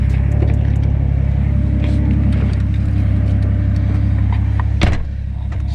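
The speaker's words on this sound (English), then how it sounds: "I'm going to jump in the old Falcon and take it for a lap around the car park here" An old Ford Falcon drives a lap around a car park, its engine a loud, steady, close rumble heard from inside the cabin, with a brief clunk near the end before the drone eases slightly.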